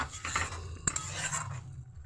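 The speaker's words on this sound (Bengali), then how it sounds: "আরও একবার নেড়ে নিচ্ছি।" Poppy seed paste is stirred in a bowl with a spoon, giving a close, continuous scraping with a sharp clink against the bowl about midway through.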